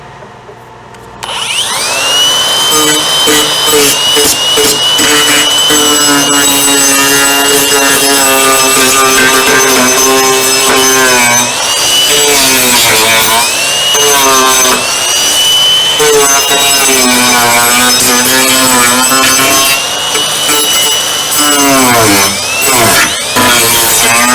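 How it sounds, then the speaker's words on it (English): A shaping disc on a power grinder loudly works over brittle, weathered wood, a continuous high whine with shifting pitch and abrasive rasping that holds steady for over twenty seconds, with brief dips as the tool presses and lifts. "That's where this shaping disc is going to come in really handy."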